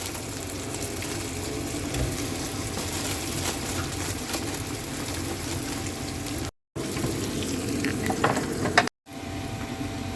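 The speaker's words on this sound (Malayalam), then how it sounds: "ബീഫ് അത്യാവശ്യം തക്കാളിയുടെ കൂടെ ആ മഷ്റൂമിൻ്റെ കൂടെ കിടന്ന് നന്നായിട്ട് വേവാൻ പാകത്തിന് ഇളക്കി കൊടുക്കുക കേട്ടോ" Beef with tomato and mushrooms sizzles steadily in a pan for a Kerala-style beef casserole, with scraping stir strokes and two brief cuts to silence; no one speaks.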